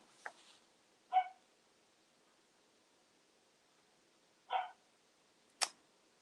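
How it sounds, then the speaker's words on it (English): A dog barks a few times at the front door, short, sharp and somewhat distant, spaced out across a quiet room with no talking. "Apologies about the dog."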